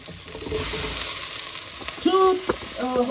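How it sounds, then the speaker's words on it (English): Turnips and carrots sizzle steadily in butter in a pan, a close, continuous frying hiss. Brief voiced sounds and a few clinks come through over it. "Just throw in a little bit of butter there to tenderize the vegetables. Here goes our turnips and carrots."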